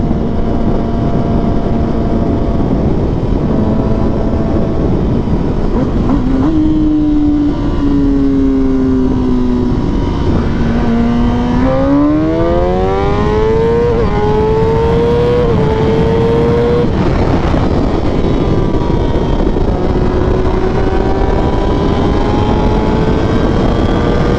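A derestricted 2021 Kawasaki ZX10R sport motorcycle engine while riding on a road, loud and close, droning steadily before rising and falling through several gear changes and revs, with wind noise throughout.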